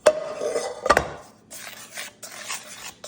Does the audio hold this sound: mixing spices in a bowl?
yes